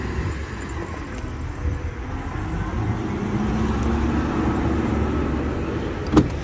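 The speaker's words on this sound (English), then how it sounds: "Truck's going to be going by me right now" A truck rumbles past outdoors at an auction yard, a broad low roar that swells gradually and stays loud to the end, with a brief sharp knock near the close.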